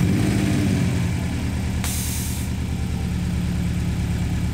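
A 2020 Subaru WRX STI engine idles after starting, a steady low throbbing rumble close by, with a short hissy burst partway through.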